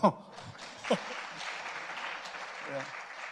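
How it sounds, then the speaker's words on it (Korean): Congregation applause at a Korean church ordination and installation service, a broad wash of clapping filling the room after a couple of brief voice bursts at the start, with faint voices near the end. "그럼 박수 쳐야죠"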